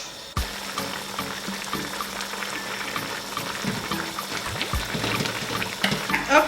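A pot of okra soup made without oil bubbles on the stove with a steady wet simmer and occasional louder pops and spatters, close by.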